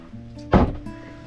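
A cabin door on a steel Van de Stadt expedition sailboat swings open with a single sharp wooden knock and brief thud, close and loud against a quiet interior hum.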